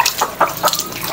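A Bangkok-breed chicken, freshly bathed and set out to dry in the sun in front of a house in the morning, gives a few short, close clucks spaced across a brief moment.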